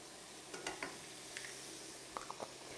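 Garlic sizzling in a wok with vegetables, a soft, quiet fry hiss broken by a few light scraping stirs and clinks of the utensil.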